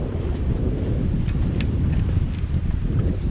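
Constant low wind buffeting and rumbling against the microphone aboard a sailing boat off Land's End, with a faint wash of water in the background.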